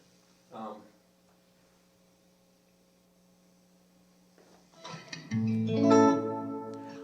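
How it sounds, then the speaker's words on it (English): A low steady hum, a brief guitar note early on, then a clean electric guitar chord through a Fender Bassman tube amp with little distortion rings out loudly near the end with a light reverberant tail. "It doesn't have a lot of distortion on it, just a little reverb."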